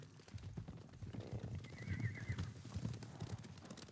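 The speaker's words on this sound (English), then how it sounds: "Horses, they're coming for us." Horses approach in the game Ghost of Tsushima, a low rumble of clip-clopping hooves with a short whinny partway through, fairly faint and heard without talking.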